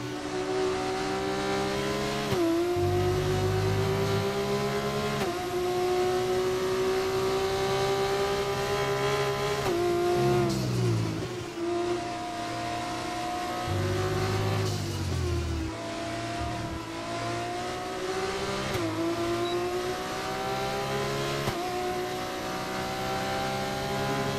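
F2 race car engines in F1 24 scream continuously at high revs, the pitch climbing through each gear and dropping sharply on upshifts and braking, near and loud throughout.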